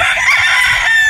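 Close, loud crow from a Boston Roundhead straight-comb broodstag rooster, one short sustained call with no talking over it.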